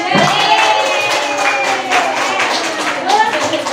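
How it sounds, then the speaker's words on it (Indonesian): Teachers at a training session in Indonesia clap together, a dense, steady patter of hand claps mixed with overlapping voices and chatter throughout. "Tepuk tangan dulu dong."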